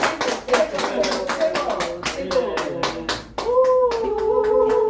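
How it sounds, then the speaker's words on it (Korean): Lecture attendees clap to welcome a professor, a modest group giving distinct, separate handclaps in an uneven rhythm, fairly close, while a voice talks over the clapping. "윤영희 교수님을 큰 박수로 모시도록 하겠습니다"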